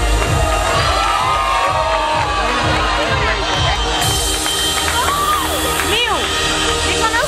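A crowd of children at a Sinterklaas disco party cheering, shouting and whooping loudly, a dense, continuous din close by with repeated rhythmic thumps underneath.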